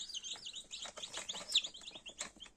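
High, rapid peeping from several newly hatched chicks of mixed breeds, overlapping and continuous, close by with a faint background hiss.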